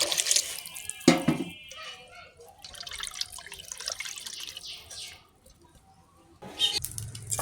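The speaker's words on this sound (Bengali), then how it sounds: "এখানে আম্মু পরিমাণ মতো পানি দিয়ে দিচ্ছে।" Water poured into a cooking pot while making khichuri in a home kitchen, heard as a short splashing burst early on and a louder gush near the end, with quieter clattering between.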